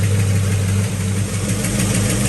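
A Pontiac GTO V8 idles steadily after a timing adjustment, a loud, even rumble with a constant low throb that holds without break and without any talk over it.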